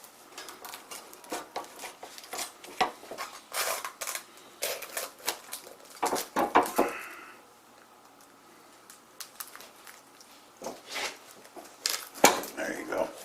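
A whole holiday turkey is pried loose from a hot roasting pan, giving a run of close, irregular scraping clatters and metallic knocks with a few quieter pauses, over a faint room hum.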